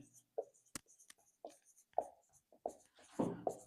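Pen strokes scratch across paper as a topic heading is written by hand, in short separate bursts with pauses between them and no talk over them.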